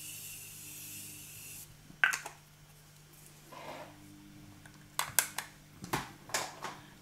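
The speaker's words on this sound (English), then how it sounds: "I'm going to spray it all with the Morphe setting spray." A steady misting hiss from a bottle of Morphe makeup setting spray for a second or two, followed by soft handling clicks and light rustling nearby.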